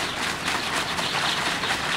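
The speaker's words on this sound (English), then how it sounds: "Shake the tub up" Water sloshes inside a plastic shaker tub being shaken hard, a steady, dense, rushing swish that carries on without a break for the whole stretch.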